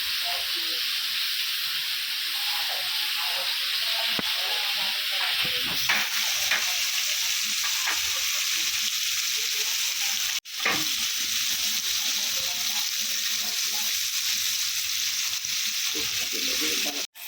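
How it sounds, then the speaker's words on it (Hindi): Bombay duck fish frying in a pan, a steady loud sizzle and hiss with occasional scraping and clinks as pieces are turned, faint talk in the background. "1 मिनट बोबिल एक तरफ से फ्राई किए, अभी दूसरी तरफ से पलटी कर रहे"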